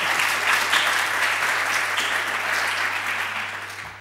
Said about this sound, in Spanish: Así que un aplauso para él,